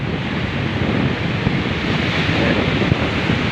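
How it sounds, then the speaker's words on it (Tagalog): Steady roar of surf and heavy waves mixed with cold, gusty wind buffeting the microphone, continuous and loud, with no voices. "yung halon malaki at saka malamig talaga ang hangin"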